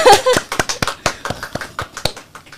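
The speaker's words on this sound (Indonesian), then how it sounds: "tepuk tangan" A small group claps in a classroom-style session, producing a burst of quick, uneven hand claps that start dense and loud and then thin into scattered slaps, with some voices mixed in at the start.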